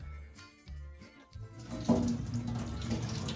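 Water poured into a cooking pot over three potatoes until they are just covered, a steady running splash that grows louder and fuller midway and continues to the end, with faint kitchen clatter at the start.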